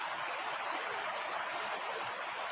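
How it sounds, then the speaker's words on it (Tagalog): Water rushes into a tumbler in an unbroken hissing stream, close and steady for the whole stretch with no pauses. "Ang tumbler ko dito, lagyan ko muna ng tubig"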